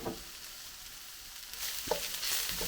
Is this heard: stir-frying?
yes